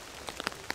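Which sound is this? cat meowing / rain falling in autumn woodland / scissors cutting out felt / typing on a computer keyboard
rain falling in autumn woodland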